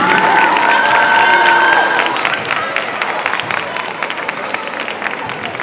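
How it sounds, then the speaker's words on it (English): Gym crowd at a high school boys basketball game applauding and cheering for the seniors, loud dense clapping with whoops and shouts, a sustained tone and voices audible early on, then easing slightly while continuing to the end. "Ladies and gentlemen, one more big round of applause for all of these seniors tonight"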